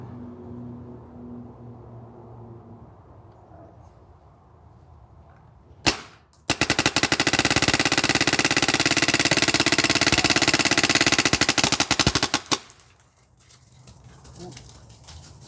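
A paintball gun with a stock supercharged engine fires in uncapped ramping mode: one sharp shot, a brief pause, then a loud, close, continuous rapid stream for about six seconds before it stops, with pigeons cooing quietly before and after.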